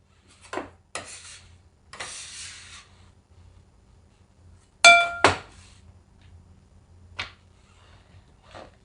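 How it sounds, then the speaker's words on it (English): A cast iron skillet is handled and set on a stove, giving several separate clanks, rubs and scrapes spread across the stretch, with one louder metallic knock around the middle and quiet pauses between. "So now I'm going to use my cast iron skillet. I'm going to heat it up, get some butter in it."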